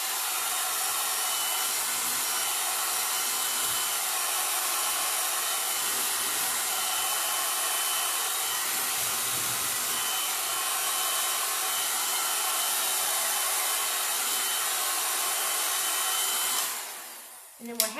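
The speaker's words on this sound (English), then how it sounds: "I think I'm going to dry this just a little bit so that I don't get it all over the place." A hair dryer drying craft glue on repurposed book art: a steady, close, loud airy whir running without a break for about seventeen seconds, then switched off with a short clatter.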